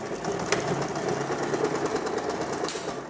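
Sewing machine stitching steadily along a marked line through pinned fabric, a continuous close, even mechanical whir with a fast needle rhythm and no talking.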